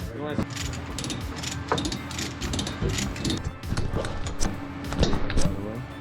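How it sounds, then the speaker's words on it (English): A ratchet strap is cranked tight around a roll cage bar inside a GT-R, giving repeated close ratcheting clicks in short rhythmic bursts with a mechanical hum beneath. "Why don't we get a ratchet strap and take it around this corner to the bar?"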